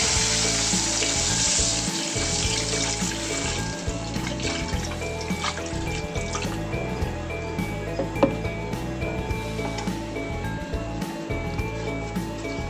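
Steady sizzling of coconut milk poured into a hot frying pan with bay and lime leaves, with occasional light clinks of a utensil, close up and continuous.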